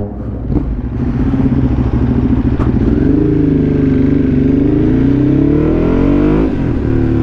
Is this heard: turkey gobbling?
no